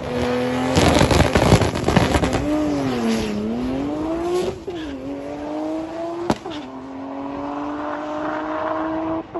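A drag race car on a 17-inch setup launches hard down the track, its engine screaming upward in pitch with gear changes and a sharp bang, loud and close throughout with no talk.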